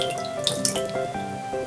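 Tablets dropped into the water of a toy pool: a few quick drips and small plops into shallow water over a faint steady trickle, close and clear.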